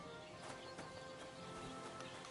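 A horse in the medieval game Kingdom Come: Deliverance 2 makes quiet hoof clip-clops, with a faint whinny somewhere in the mix, over a steady outdoor ambience and no talking.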